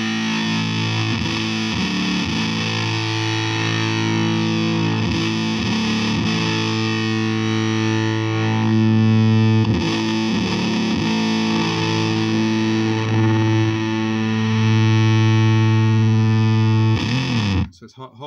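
Electric guitar played through a homemade veroboard Pep fuzz pedal, its body control being adjusted; thick, heavily distorted sustained chords ring loudly and continuously with occasional new strums, cutting off abruptly at the end.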